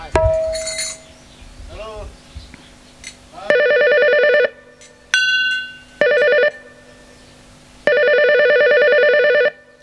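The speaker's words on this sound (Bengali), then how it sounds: "কোন শালা ফোন করছে রে" A telephone rings in bursts of bright, repeating electronic trills separated by short pauses. A faint earlier tone and a few clinks come before the rings.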